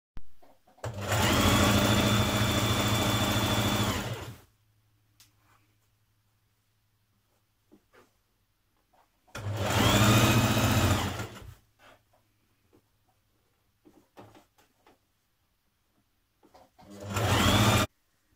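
A sewing machine stitches a fabric seam in three bursts, two long runs of about three seconds each and a short final one, loud and close with a steady motor whir. Quiet gaps with small handling clicks fall between the bursts.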